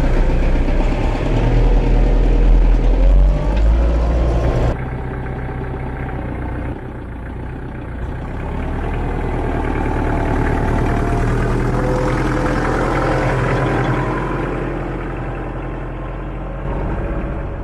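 A tractor with a grass topper runs in a field of very long grass. Its engine drones loud and steady, shifts in level partway through, then holds a continuous rumble with no talking.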